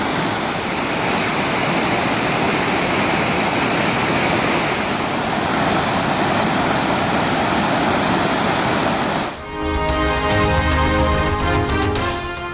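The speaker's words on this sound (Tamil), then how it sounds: "தேனி உத்தமபாளையத்தில் பாயும் முல்லை பெரியாற்றில் குறையாத வெள்ளம்." The flooding Mullai Periyar river at Uthamapalayam in Theni roars as a dense, steady wash of rushing water, loud and unbroken, with a brief cut near the end where the tone shifts slightly.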